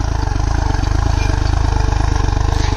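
A tractor engine pulling a harrow in third high gear at low rpm, a loud, steady, rapid diesel thump with a clattering mechanical texture throughout, close by.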